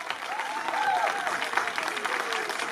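Applause from an outdoor crowd at the Nieuwehorne night walking event, a steady wash of clapping held for nearly three seconds with some overlapping voices and whoops mixed in.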